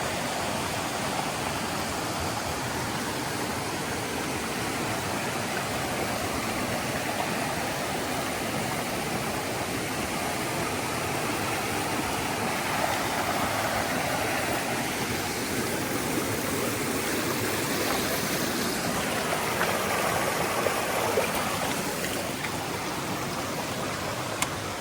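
Zealand Falls on the Appalachian Trail pours in a constant, broad rushing roar, a steady dense wash of falling water heard up close with no pauses.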